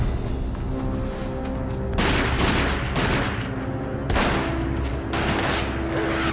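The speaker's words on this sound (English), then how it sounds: "Barry's gun is so loud." Loud, booming gunshots from Barry's gun in the Resident Evil Remake video game, several heavy blasts in quick succession with echoing tails over constant game ambience.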